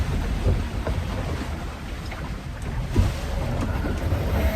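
Wind gusting and water rushing around a sailboat as it moves through open Atlantic waves between Lanzarote and Madeira, with low churning swells and an occasional splash.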